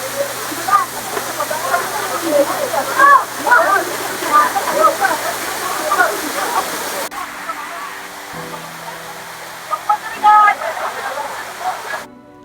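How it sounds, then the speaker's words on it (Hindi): Zenith waterfall near Khopoli pours in a steady, close wash of rushing water, with a person talking over it through most of the stretch. "हम एक अननोन से वाटरफॉल पे पहुँच गए हैं"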